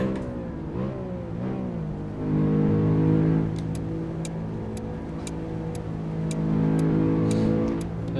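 A Tofaş Murat 131 engine hums steadily while driving through Istanbul, with a low harmonic drone that swells in two revving pushes, and light ticking sounds recur throughout.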